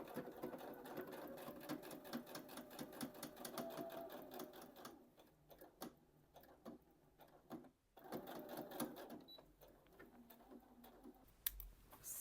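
A sewing machine stitches a jacket seam in quick rapid bursts of ticking needle strokes, pausing briefly midway before starting again, close and fairly quiet.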